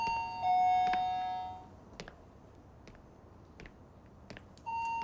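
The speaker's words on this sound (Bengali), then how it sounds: "অনেকক্ষণ ধরে কলিং বেল বাজালাম, কেউ আসেনি।" Up close, a doorbell gives an electronic chime near the start and another at the end. In between are a few faint knocks and clicks against a quiet room background.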